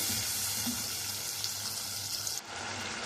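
Red chili, coriander and turmeric masala roasts in a pan for a desi aloo gosht shorba, a soft, steady frying hiss that dips briefly near the end, faint and close without talking.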